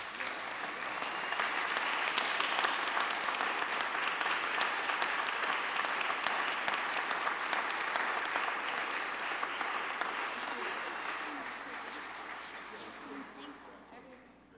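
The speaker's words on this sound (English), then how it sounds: "Please join the board in applauding Francisco and Yan" Steady applause from an audience at a school board meeting, a dense patter of clapping hands that holds strong for most of the stretch and then gradually fades out near the end.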